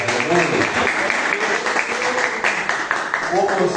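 A church congregation claps and applauds for a few seconds, a dense steady patter with a voice speaking over it.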